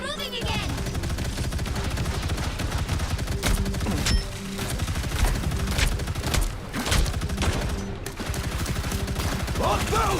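Rapid bursts of automatic gunfire from a Marvel Rivals match crackle continuously under a busy game soundtrack, with scattered louder shots and brief lulls and a voice speaking faintly in the mix.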